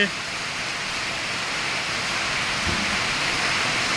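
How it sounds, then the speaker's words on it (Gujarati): A sudden heavy rain shower pours down in a steady dense hiss of drops on surfaces, loud and continuous, with a low rumble partway through. "કેવો વરસાદની એન્ટ્રી થઈ ચૂકી છે"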